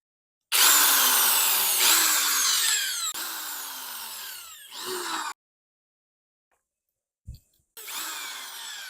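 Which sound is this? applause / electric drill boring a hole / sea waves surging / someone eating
electric drill boring a hole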